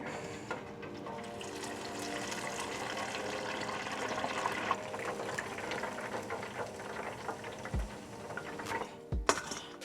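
Chicken wings crackle and sizzle steadily in hot oil during a second deep fry, a dense continuous bubbling hiss close by with no talking.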